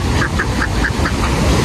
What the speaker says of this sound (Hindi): बाकी आप देख सकते हैं बतख सारे यहाँ पर घूम रहे हैं।